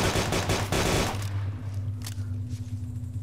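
Full-auto gunfire from Arma 2 DayZ mod, aimed at a car: a rapid, loud burst of shots for about a second, then a low idling engine hum with a couple of faint knocks.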